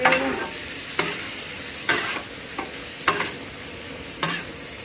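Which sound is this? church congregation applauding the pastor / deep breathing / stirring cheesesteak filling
stirring cheesesteak filling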